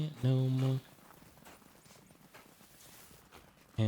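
Horse hooves clip-clopping as a rider travels in the video game Ghost of Tsushima, a short steady burst of hoofbeats near the start with a bright voice-like tone over it, then quieter background, and another loud burst at the end.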